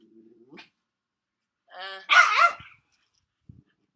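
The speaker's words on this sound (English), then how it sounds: "The dogs are fighting." Dogs fighting nearby, with a short low growl followed by a sharp bark-like snarl and a faint yelp, separated by quiet gaps.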